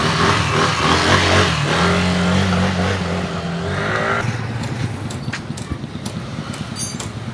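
A small Yamaha Aerox scooter engine revs and drones nearby, pitch rising and falling, then settles into a rougher idle with sputtering pops; the engine had been stalling.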